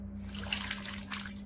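Sliced potatoes dropped into a pot of water for chip-making, a brief soft splashing and dribbling of water, faint and close, with a steady low hum underneath.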